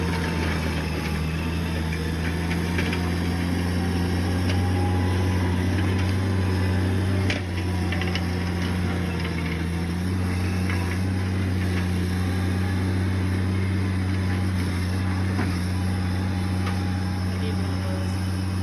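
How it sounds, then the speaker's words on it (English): A Bobcat skid-steer with a mulcher attachment clearing vegetation, a steady loud engine drone with a low hum running the whole time, broken only by a brief dip, with no talking. "this is a video kind of what our contractor looked like riding his little bobcat"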